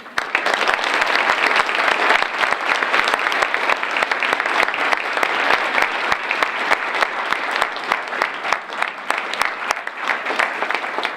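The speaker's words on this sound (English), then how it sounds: "let's give one more round of applause" Long, thick applause from an audience at an academic recognition program for students who were nominated or won awards, many hands clapping steadily with individual claps standing out, tapering slightly toward the end.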